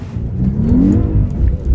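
Audi S8 Plus quattro, a 605 hp car, driving in sport mode with its assistance systems off, its engine a steady close drone that rises in a smooth sweep, with a continuous road roar from the interior.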